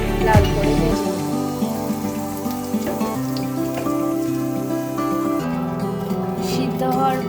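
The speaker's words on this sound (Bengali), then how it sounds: "তারপর তেল গরম হয়ে আসলে আমরা রসুনগুলো তেলে দিয়ে লাল করে ভেজে নেব।" Garlic frying in hot oil in a pan, a steady crackling sizzle that settles in after a brief clatter and runs continuously, fairly loud and close, with no one talking.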